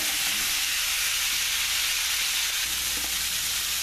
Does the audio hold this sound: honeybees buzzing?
no